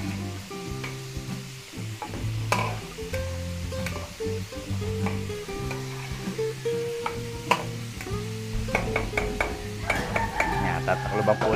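Vegetables with liver spread being stirred in a pan, with faint sizzling and scattered scraping and clinking of a utensil against the pan over a steady low background hum.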